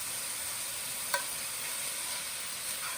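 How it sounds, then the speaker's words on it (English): Garlic sizzles in a pan while light pasta is cooked. A steady, soft hiss of frying runs throughout, with one small tap partway through and no voices. "Now I'm going to add my garlic."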